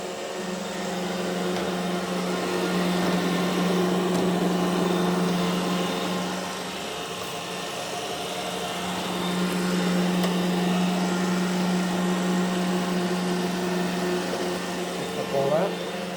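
An iRobot Roomba e5 e5152 robot vacuum runs with a steady motor hum and whirring brush noise that dips and swells as it moves, with a brief knock near the end.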